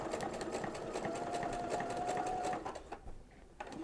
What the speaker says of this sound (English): And then you can sew curves.